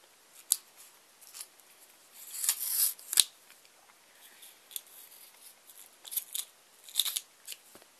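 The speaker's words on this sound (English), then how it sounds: "And then you want to take a piece of tape. Just a little piece. Peel off a little bit." A small piece of tape peeled off the roll, heard as scattered faint crackly rips and ticks, with a sharper tearing burst near the middle, with no voices.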